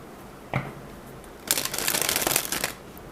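Tarot cards shuffled by hand, one quick snap followed by a dense, close riffling burst lasting about a second.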